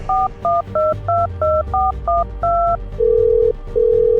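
Rapid two-tone telephone keypad beeps dialing a number, about eight quick presses, then two long steady tones of a busy line; loud and close.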